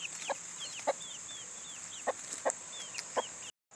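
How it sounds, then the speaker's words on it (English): A backyard chicken clucks softly in short, repeated calls over a steady high insect-like hum, with a few sharper louder clucks spaced across the moment. "What is this chicken doing back here?"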